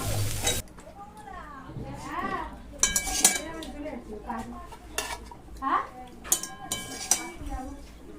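A metal lid clatters onto a cooking pot in several sharp clinks and knocks amid other kitchen clatter, while voices talk in between.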